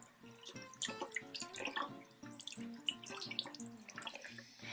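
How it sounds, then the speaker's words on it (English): Tap water runs steadily while a makeup brush is rinsed under it, with splashing and dripping that continues at close range for several seconds. "until the water definitely runs clear when you rinse out the brush"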